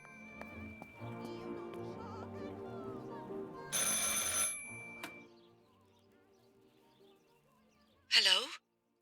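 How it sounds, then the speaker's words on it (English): In the video game Martha Is Dead, a telephone rings with a bright metallic bell burst that repeats once after a pause, over soft background music with faint chiming tones. "I should pick up the phone but remain silent"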